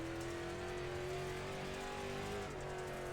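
A Limited Late Model race car in a racing video game holds a loud, steady engine drone with a high sustained tone. The revs build only slightly across the short stretch, with no voices.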